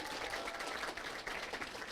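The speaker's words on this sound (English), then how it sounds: "So let's give a huge round of applause for HarperCollins" Steady audience applause fills a book event, a dense wash of many hands clapping at an even level throughout, with no voices rising above it.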